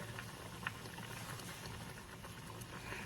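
A pot of rice boils on a stovetop with a steady, soft bubbling and fine patter, faint and continuous, with no one speaking.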